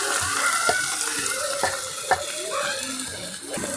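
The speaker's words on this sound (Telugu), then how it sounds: "అలాగే దీన్ని కూడా మనం నూనెలో వేయించుకోవాలి" Panakattaku leaves frying in oil for chutney, a steady bright sizzle with soft intermittent taps and stirring sounds, no talk.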